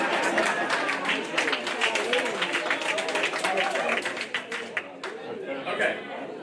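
An audience at a Pine Bluff run-off candidate forum claps steadily in a room, the scattered applause running under a person speaking before tapering off.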